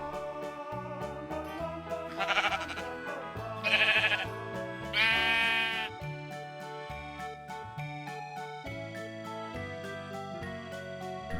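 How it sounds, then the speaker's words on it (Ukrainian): A sheep family of ram, ewe and lamb bleats over a bright, rhythmic music track, with three louder, wavering bleats standing out near the middle. "Тато баран, мама вівця, а дитинча ягня."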